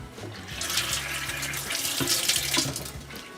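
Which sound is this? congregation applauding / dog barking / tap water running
tap water running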